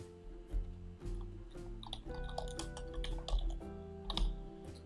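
Rapid typing on a computer keyboard while building a PowerPoint slide, with quick irregular clusters of key clicks and a steady background hum underneath.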